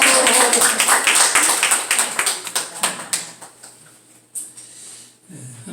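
A church congregation applauds an elder with a burst of dense, quick clapping that thins into scattered claps and fades, heard close in a hall with a little murmuring.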